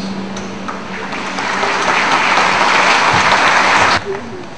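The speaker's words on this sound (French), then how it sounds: "un beau applaudissement." Applause from an audience at a radio event, building to a full, loud burst of clapping that stops sharply near the end.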